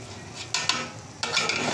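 Biryani rice being stirred in a pot, with a soft simmering bed broken by two scraping spoon strokes against the metal.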